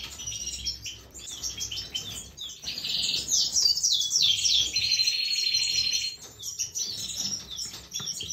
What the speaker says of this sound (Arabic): نتقاسم معكم إطعام الفراخ